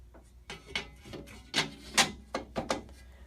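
A flat table is fitted onto a Gakushin test machine: a short series of faint clicks, scrapes and rubbing knocks, about half a dozen, spaced irregularly and close by.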